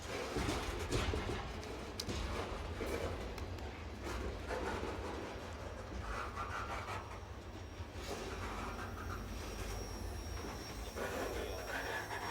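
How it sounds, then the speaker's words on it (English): A freight train rolls steadily past on a phosphate rail line in Bone Valley, Florida, a continuous loud rumble of cars and wheels lasting throughout, with faint squeal and indistinct voices or noise mixed in. "That would be the last train that we saw in the Bone Valley."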